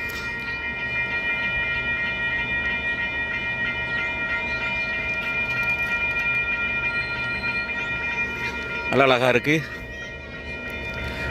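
A train runs at a station in Sydney with a steady, loud mechanical whine and rumble, and a short warbling horn sounds near the end. Someone speaks over it.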